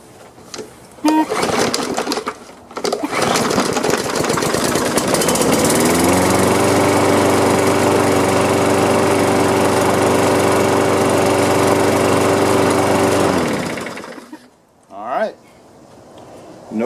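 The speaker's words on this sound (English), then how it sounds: "Let's prime it up and see if it'll start." A gas lawn mower with a carburetor, freshly fueled and primed, cranks and then starts, running loud and steady at close range for about eight seconds before cutting off; brief talk comes before and after.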